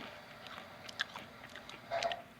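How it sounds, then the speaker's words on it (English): Close, crunchy chewing of glazed peanuts coated in a hot, spicy layer, with a couple of sharp bites near the one-second mark and a louder crunching burst toward the end, no talking. "I'm not really a fan of glazed peanuts. Too crunchy for me."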